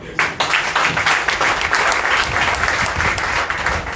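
Dense, lively clapping from an audience at a university convocation press conference, loud and close and continuing without pause.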